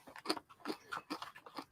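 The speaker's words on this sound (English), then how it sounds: "I hear the crunching." Someone chewing crunchy food close up, a quiet series of crisp bites and crunches in an irregular rhythm with no talking.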